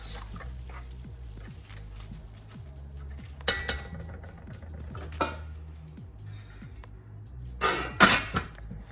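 Ayamase rice is stirred in a pot, producing scattered scrapes and clinks of a utensil against metal, faint and close, with a few louder knocks near the end.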